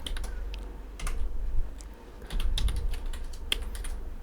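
Quick bursts of typing on a computer keyboard while coding in Python, close and fairly quiet, with short pauses between runs of keystrokes and no talk.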